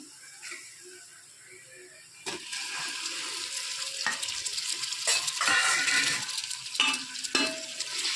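Onions and tomatoes fry and sizzle in a pan for chicken biryani, with intermittent scraping stirs and clattering over a steady hiss, close up and without talk.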